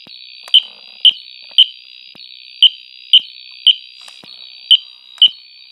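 A fire alarm gives a shrill, high-pitched chirp about every half second, repeating steadily and loudly with no other sounds.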